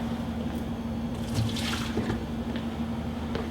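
Steady pour of hot water emptied from a cup into a drain beside commercial coffee brewing equipment, a continuous splashing trickle with faint clinks, moderately quiet and without talk.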